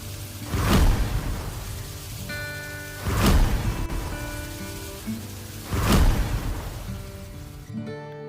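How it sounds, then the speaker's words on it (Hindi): Heavy rain pours steadily, with three louder swells rolling through like gusts or distant thunder, set under a soft, sustained musical tone. "एक बार बारिश बहुत तेज होने लगी।"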